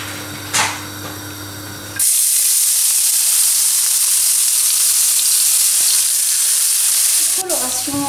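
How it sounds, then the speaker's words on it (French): Chopped shallot drops into a little olive oil in a sauté pan and bursts into a loud, steady sizzle that holds for several seconds, after a quieter opening moment with a faint clink. "je vais mettre un tout petit peu d'huile d'olive, auquel je vais rajouter de l'échalote hachée"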